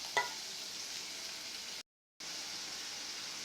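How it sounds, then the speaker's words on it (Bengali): Onion fries with ginger and garlic in a pan, a soft, even sizzling hiss heard close but quietly, opening with a brief clink and interrupted by a short gap of silence. "দিয়া দিলাম পেঁয়াজের লাগে ভাজা ভাজা হোক।"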